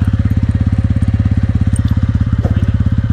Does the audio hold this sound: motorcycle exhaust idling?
yes